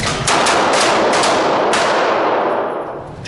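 A handgun fires several close, loud shots at an uneven pace in a shooting drill, each cracking sharply over a dense, ringing echo that gradually dies away.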